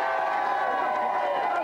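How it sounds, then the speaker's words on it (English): A television game-show studio audience cheers for the contestants, a steady, unbroken wash of crowd noise and shouting held at an even level throughout. "Let's give all our contestants a cheer,"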